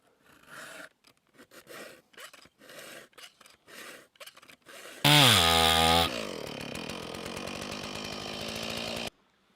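A handsaw cuts through wood while an axe is being made, working in a rough back-and-forth rhythm at first, then shifting to a loud, steady powered cutting sound that runs close and unbroken before stopping abruptly.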